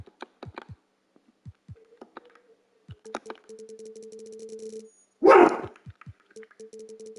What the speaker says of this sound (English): That would be my dog barking.